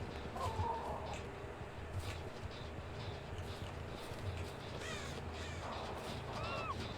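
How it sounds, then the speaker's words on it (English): A crow in Dead by Daylight gives a few scattered caws over a dense, noisy game ambience, moderately distant and never very prominent. "This crow just came back."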